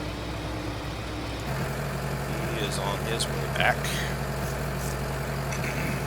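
A farm tractor engine runs steadily at a low idle-like drone during forage harvesting in Vojvodina, Serbia, a continuous mid-distance rumble with someone talking over it.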